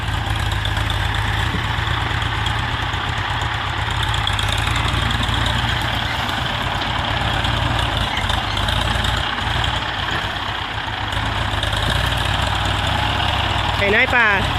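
A tractor engine runs steadily while ploughing grass in a rubber plantation, a continuous loud low drone with a faint rattle near the end.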